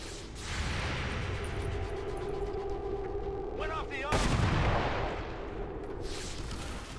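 Overwatch gunfire in XCOM 2 crackles through a dense, continuous wash of battle noise. A sharper burst of shots breaks in around the middle, and voices talk faintly underneath.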